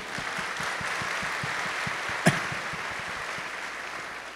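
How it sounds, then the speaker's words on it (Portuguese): A church crowd applauds an 84-year-old musician, steady rhythmic hand claps filling the room at moderate distance with a single sharp knock midway. "Dá um aplauso ali, ó."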